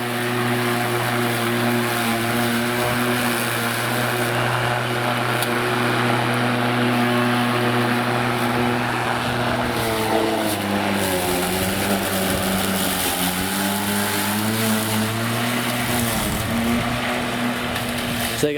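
Ozito 36V battery lawn mower cutting grass, its spinning fan blade giving a steady whirring drone with a strong low hum that shifts in pitch midway, continuous and close.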